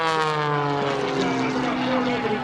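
Propeller airplane flying at the Thunder in the Valley air show, a loud, steady droning engine with a harmonic buzz that holds throughout, close by and continuous.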